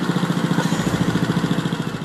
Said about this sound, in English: someone has added the sound of a running lawnmower to the soundtrack